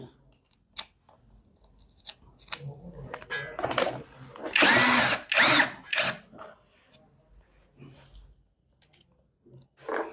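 A GearUP cordless hand drill with a brushless motor runs in two close bursts of a few seconds each, loud and near, with clicks and handling noises around them.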